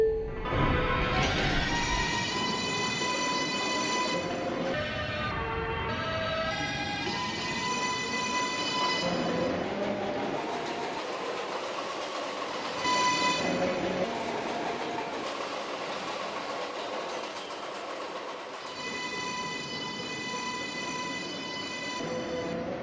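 A New York subway 4 express train bound for Bowling Green, loud and close, its electric motors whining up and down in tonal sweeps over rumbling wheels and rail noise that runs continuously throughout.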